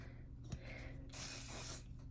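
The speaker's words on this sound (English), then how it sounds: "I'm just putting a little bit of soft hold hairspray in my hair to give it some stickiness and texture" Soft hold hairspray sprayed onto hair, a single close, breathy hiss lasting under a second after a few faint handling clicks, in an otherwise quiet room.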